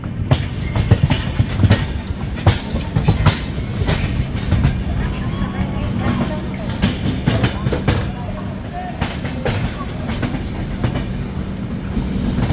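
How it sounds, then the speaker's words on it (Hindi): The 20452 Intercity Express pulls out of New Delhi station with continuous rumbling and rhythmic clickety-clack of wheels over rail joints, heard from on board, loud and steady throughout, with voices faintly mixed in. "ये देख लो भाई नई दिल्ली से खूबसूरत सा डिपार्चर हमारा यहाँ होते हुए"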